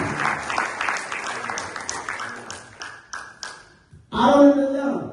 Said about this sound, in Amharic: አጨብጭቡ እንጂ